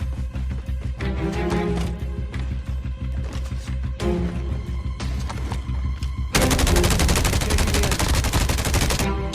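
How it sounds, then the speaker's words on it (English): Continuous automatic gunfire in Call of Duty Mobile battle royale, dense rapid shots from more than one weapon, growing louder and harsher in the final few seconds. "There is a second enemy shooting at me"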